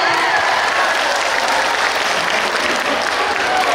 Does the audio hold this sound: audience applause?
yes